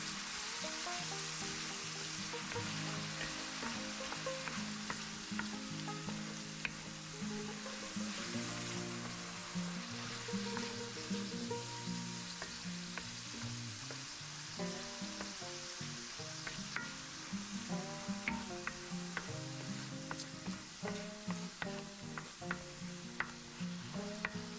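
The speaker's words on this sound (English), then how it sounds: "Using the same skillet, you want to add the mushrooms and cook those 3 to 4 minutes" Mushrooms fry in a skillet used before for pork chops, giving a steady close sizzle with crackles and occasional scraping and stirring taps, and no voices.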